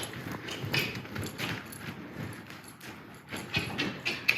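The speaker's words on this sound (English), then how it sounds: "I can surge my horse forward." Hooves clip-clop as a horse moves forward on its handler's cue during equine showmanship groundwork, a steady run of close, moderately loud steps.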